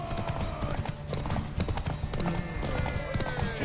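Horse hooves clip-clop steadily on the ground in The Witcher 3 video game, close and continuous, with faint game ambience and a brief whinny-like tone behind them.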